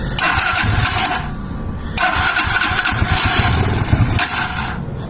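A cold, poorly carburetted Vortex motorcycle with stock exhaust fires up and runs roughly, cuts out briefly, then restarts and revs unevenly before dropping off again, close and loud.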